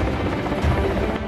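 A Russian Ka-52 combat helicopter roars close and loud, a steady dense rotor and engine drone for a brief moment.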